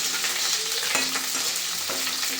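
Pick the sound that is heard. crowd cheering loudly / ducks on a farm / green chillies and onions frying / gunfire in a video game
green chillies and onions frying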